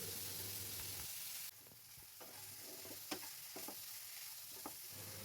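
Scooped-out pointed gourd filling fries in a little oil in a nonstick wok. A loud hiss suddenly drops to a softer sizzle, and scattered spatula knocks and scrapes stir it, with no voices.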